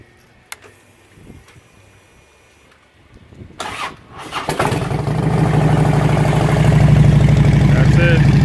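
A 2010 Harley-Davidson Road Glide motorcycle engine cranks and fires up close, then settles into a loud, steady, lumpy idle after a few quiet seconds of handling noise.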